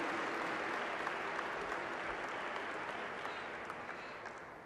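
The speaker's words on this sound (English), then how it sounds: "Can we give them another round of applause for all their hard work?" A crowd at an annual Dr. Martin Luther King, Jr. birthday celebration gives a steady, full round of applause that holds evenly for several seconds and tapers slightly toward the end.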